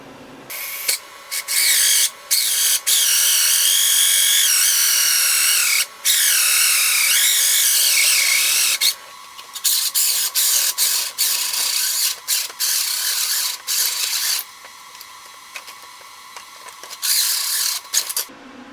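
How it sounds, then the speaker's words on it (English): A small power drill bores out the center of a plastic Knight Rider switch pod part, whirring in repeated close bursts of varying length separated by short pauses, with no talking. "I'm going to go ahead and drill out the center for you."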